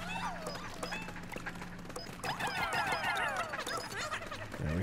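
Small dogs in the Pikmin 4 video game give a scatter of short yips and whimpers over game music and sound effects, the sounds moderately loud and irregular, with no talk.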